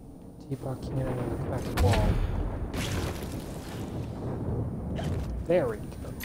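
Teapot cannon firing at a cracked wall in Alice: Madness Returns, heavy booming blasts and rattling impacts in a dense, busy game mix, with voices speaking over the shots.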